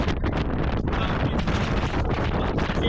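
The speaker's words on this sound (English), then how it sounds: "there's a 4-mile wind gust." Strong wind gusts roar across open ice during a South Dakota blizzard, loud, constant buffeting against the microphone with no letup.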